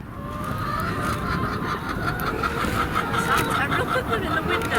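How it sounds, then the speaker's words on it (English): A flock of chickens clucks restlessly and continuously at close range, a busy overlapping chatter that rises slightly in intensity, while a person talks over it. "The chickens are getting restless. You can hear them."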